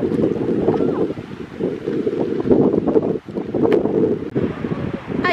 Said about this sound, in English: Ayan, sobrang windy guys.